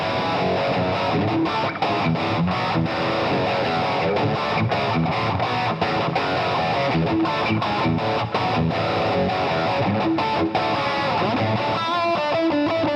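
A heavily distorted Fender Player Series Telecaster electric guitar plays a dense, loud rock passage with sustained chords and steady rhythmic chugging throughout.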